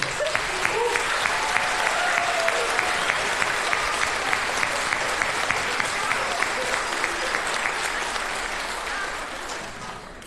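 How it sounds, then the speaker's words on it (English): Audience applauds a fourth grade class at an elementary school promotion ceremony, a dense, steady wash of clapping lasting about ten seconds and tapering slightly at the end. "we'll give a big round of applause now for them"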